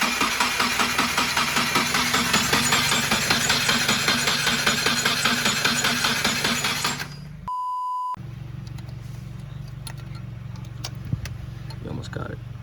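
A rebuilt Subaru WRX FA20 engine cranks with a fast, rhythmic chugging of the starter for about seven seconds, then cuts off to a brief beep and a low idle-like hum with a few faint clicks.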